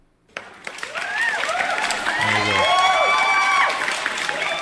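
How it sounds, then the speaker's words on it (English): A recorded applause effect plays in a live trade review session, with steady clapping and some cheering swelling and holding while someone speaks over it. "Where's my clapping?"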